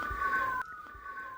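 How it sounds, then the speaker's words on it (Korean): Siren wailing outside during an indoor filmed lecture, a sustained electronic tone that sweeps and then drops abruptly in pitch partway through, moderately loud and steady, with no talking over it. "바로 촬영을 방해하는 사이렌 소리가 가장 크게 들립니다"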